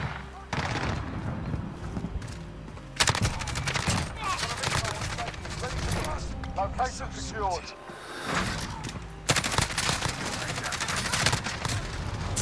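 Kilo 141 assault rifle fire from Modern Warfare, heard as bursts of rapid shots with busy game effects and other noise mixed in throughout.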